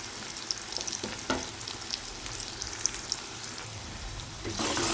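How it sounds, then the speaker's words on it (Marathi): Finely chopped garlic and ginger sauté in a pan for momo chutney, giving a dense crackling sizzle with scattered spatula scrapes, close and moderately quiet, swelling louder at the end with no speech. "एक मिनिटासाठी परतून घ्यायचं आहे."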